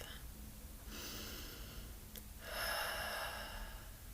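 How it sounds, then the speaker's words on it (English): Slow, audible yoga breaths during a hero's pose practice: a soft inhale followed by a louder, longer airy exhale through the nose, close and quiet, with no talking. "Listen to the sound of your breath."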